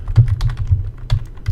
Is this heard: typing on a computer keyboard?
yes